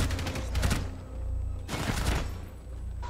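Machine gun fire in the video game Rainbow Six Siege, two loud sustained bursts of rapid shots separated by a short lull, close and dominant.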